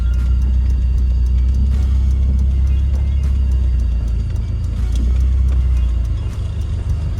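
A 1991 BMW E30 drives and makes a U-turn, its engine a steady, loud low rumble heard from inside the car, with the pitch easing slightly as it turns and no talk.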